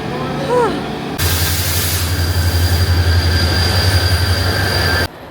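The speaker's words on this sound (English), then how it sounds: "our train should be here in like 5 minutes" A subway train pulls into a hot station platform in Seoul, a loud sustained rumble with high wheel squeal and whining tones that cuts off abruptly, while a person talks before it arrives.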